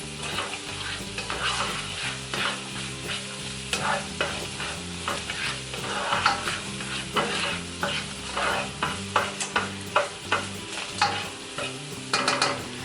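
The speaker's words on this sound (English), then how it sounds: "another 10 minutes so the entire onion can be soft and glazy" Onion frying in a pan while being stirred: a steady close sizzle with repeated scraping stir strokes, growing busier and more clattery toward the end.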